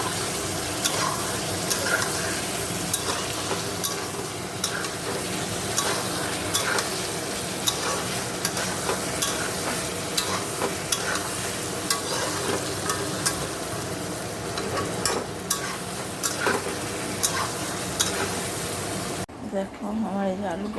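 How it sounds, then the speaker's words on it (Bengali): Spice paste seasoned with salt, turmeric and sugar fries in a pan for an egg, potato and pointed gourd curry, a constant close sizzle with repeated stirring scrapes, then cutting off abruptly near the end. "নুন হলুদ মিষ্টি দিয়ে ভালো করে এবার কষিয়ে নেবো।"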